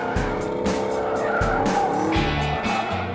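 A Chevrolet Camaro ZL1 with a V8 engine drifts, its tires squealing continuously under loud, revving engine roar with repeated throttle surges.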